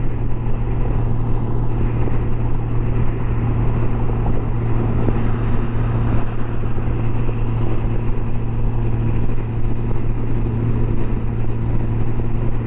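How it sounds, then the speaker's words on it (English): Steady, loud roar of a motorcycle ridden into strong wind, with constant low engine drone and heavy wind buffeting throughout, no voices. "it's really windy today, and it feels like I'm riding right into the wind."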